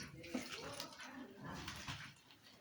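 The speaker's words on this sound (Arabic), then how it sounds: "احط بقى الميه شويه بشويه" Water is poured little by little into fateer meshaltet dough made with a bit of sugar and salt, giving a continuous splashing, trickling wash with a voice faintly mixed in.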